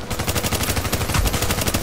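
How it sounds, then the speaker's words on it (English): Rapid video-game gunfire, with shotgun rounds being pumped into enemies, fills the whole stretch as a dense, continuous barrage of loud, closely spaced bursts and no pauses. "pumping shotgun rounds into them"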